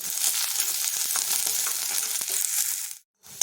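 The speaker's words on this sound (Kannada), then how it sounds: "ಈರುಳ್ಳಿನ ಸ್ವಲ್ಪ ಮೀಡಿಯಮ್ ಆಗಿ ಹೆಚ್ಚಿಟ್ಕೊಂಡಿದ್ದೀನಿ ಅದು ಮತ್ತು ಕರಿಬೇವನ್ನು ಹಾಕ್ಕೊಳ್ತಾ ಇದ್ದೀನಿ ಇದನ್ನು ಸ್ವಲ್ಪ ಹುರ್ಕೊಳ್ಳೋಣ" Chopped onion and curry leaves fry in a hot pan, a steady close broadband sizzle with small crackles and scrapes that runs almost throughout, then cuts out abruptly near the end.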